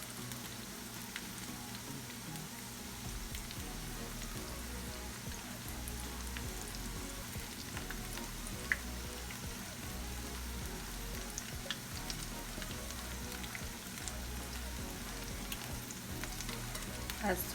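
Steady, dense sizzle of veggie fritters frying in a pan, continuous hissing and crackling oil with faint pops throughout.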